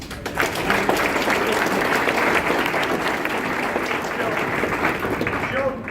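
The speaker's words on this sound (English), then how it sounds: "can everybody give him a round of applause?" A round of applause for a team player fills a hall, dense steady clapping from a crowd held at even loudness for several seconds, with a few voices mixed underneath.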